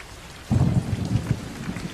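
Heavy rain in Deesa hisses steadily, and a deep rumble of thunder breaks in after half a second and rolls on, fairly close, with no voices.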